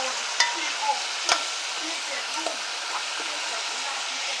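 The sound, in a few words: onion and garlic frying with caramelized oxtail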